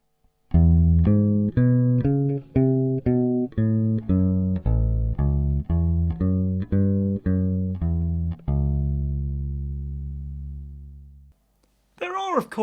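Electric bass plays a blues line built from arpeggios, a steady run of plucked notes in a two-bar pattern that ends on a long sustained low note, loud and alone, with a brief voice starting right at the end.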